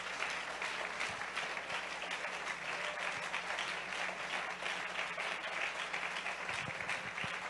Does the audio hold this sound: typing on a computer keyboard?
no